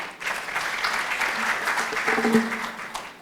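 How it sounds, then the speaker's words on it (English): Sustained applause from a conference audience, steady and fairly loud throughout, with a brief tonal sound near the end. "help me to applaud this team"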